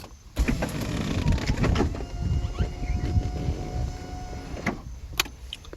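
The electric motor of a 2004 Honda S2000's convertible roof whirs steadily for several seconds with a faint mechanical hum, starting abruptly and stopping near the end, followed by a few light clicks.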